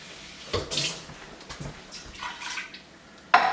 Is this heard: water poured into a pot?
yes